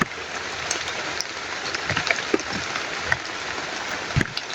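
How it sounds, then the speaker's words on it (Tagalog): Heavy rain pouring steadily with a dense hiss, punctuated by louder individual drops and splatters hitting nearby surfaces. "Yung lakas sa ulan tol."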